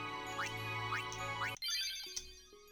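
Menu sound effects from the remastered Final Fantasy X video game: a sustained synth tone with repeated rising chime sweeps, then a short pause before a brighter jingle and a few soft blips, clear and with no talking.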